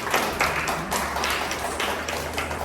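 Audience applause for panelists at a talk event, a sparse, close patter of individual claps with irregular sharp hand slaps rather than a dense roar, fairly quiet and steady throughout.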